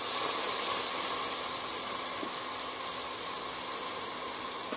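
Onion and garlic frying in hot oil for Castilian-style potatoes, a steady, dense hiss of sizzling that holds at an even level throughout with no voices.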